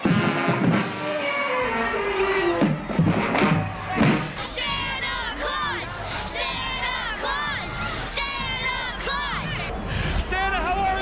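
A crowd cheers and shouts as Santa arrives at an evening gathering in Doylestown, with loud whoops and children's voices rising over one another in continuous, close celebration.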